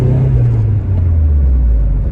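A 30-year-old Vauxhall Nova car being driven, its low engine rumble steady and close with a slowly falling drone as the revs ease, loud and continuous with no talking.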